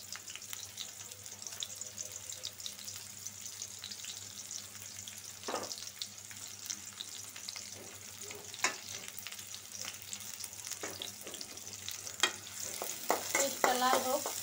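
Chopped onion and green chilies fry in oil in a wok over a low gas flame, a soft steady sizzle with occasional stirring scrapes, close by and moderately quiet, no voices.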